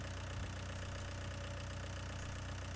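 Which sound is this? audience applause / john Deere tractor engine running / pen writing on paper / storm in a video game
john Deere tractor engine running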